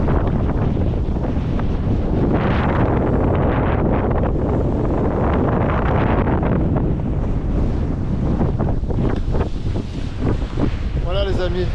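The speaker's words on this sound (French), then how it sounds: "Il y a beaucoup de vent." Strong seaside wind buffets the microphone in a constant loud roar, with the rush of surf beneath and brief faint sounds near the end.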